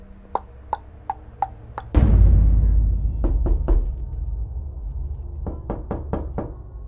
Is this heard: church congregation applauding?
no